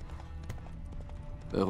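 A horse galloping in The Witcher 3 video game gives a quick, steady clip-clop of hoofbeats at moderate loudness, with game ambience underneath and a voice talking over the hooves.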